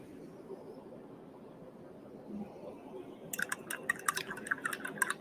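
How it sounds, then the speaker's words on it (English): A paintbrush is swished and tapped in a water jar, a quiet, close burst of irregular splashes and clinks after a few seconds of near-silence. "I'll give this a quick rinse."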